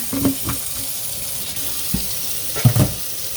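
Warm water runs steadily from a tap into a sink while dyeing lockspun yarn, a constant close hiss broken by a few brief splashes.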